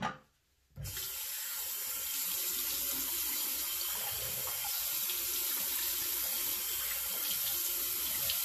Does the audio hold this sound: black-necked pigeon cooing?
no